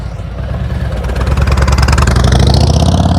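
Motorcycle engine at a slow-speed riding practice session, running steadily and close by, idling with a low rumbling pulse and building slightly in loudness toward the end.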